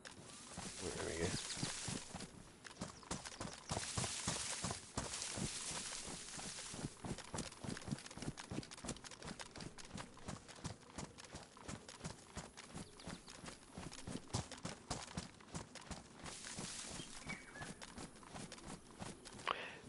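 Footsteps in assault boots, a steady rapid run of crunching steps lasting the whole stretch, close and fairly loud, with a few heavier thumps along the way.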